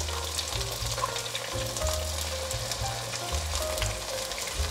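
Potato and corn flour pancakes frying in a pan, a steady close sizzle with soft crackling running continuously, plus occasional low scraping as they are moved.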